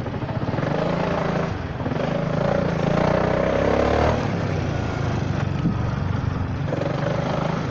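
A Honda Forza 300 scooter engine revs at low speed, a loud, close buzzing drone that rises and eases in pitch while riding, with no voices over it.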